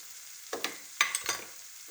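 Drumstick curry with chilli powder, cumin and coriander being stirred in a pan: a faint hiss punctuated by a few quick spatula scrapes and taps, close and brief, without speech.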